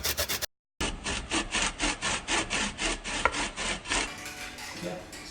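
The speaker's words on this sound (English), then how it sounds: "So we're just going to get a little bit of lemon zest here." A lemon rubbed against a zester for a frittata, a close, rhythmic rasping scrape repeated about a dozen times in quick strokes.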